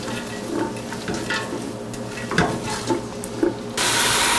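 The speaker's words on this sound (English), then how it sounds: "Now let's toss this all around. We just wanna saute this up until it is nice and translucent." Onions, leeks and fennel being sautéed and tossed in a pan, a soft continuous sizzle with intermittent scraping and stirring knocks, close by and without speech, ending in a louder burst of hiss.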